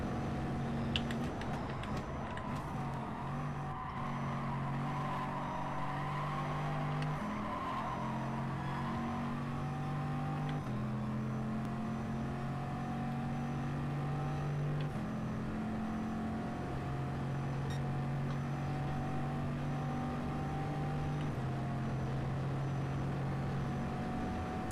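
A race car in GT Sport howls steadily, its supercharged 6-litre Mercedes-AMG V8 holding a loud droning tone that steps up and down through gear changes, with faint other engines nearby.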